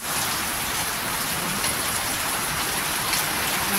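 Rain pours steadily outside a house with a damaged, leaking roof, a dense, loud, continuous hiss of falling water with no clear separate drips standing out.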